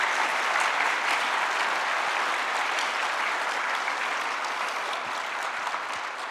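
Sustained, loud applause from a large convention audience at PAX East 2023, a dense wash of clapping that holds steady throughout and fades only slightly near the end.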